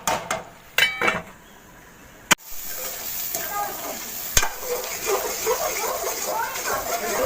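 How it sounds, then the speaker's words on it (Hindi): Chicken white karahi sizzling as it is stirred in a pan, with a sharp clank of a utensil on the metal, then steady frying crackle and scraping, close up with a voice talking over it. "अब इसको अच्छी तरह हिला लें, अच्छी तरह हिला के इसको ढक देंगे 5 मिनट के लिए।"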